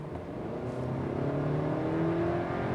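A Volkswagen Golf Alltrack crossover wagon accelerates in sport mode from about 50 to 70, one gear lower, with a steady rising engine drone heard from inside the cabin, fairly quiet and without talk.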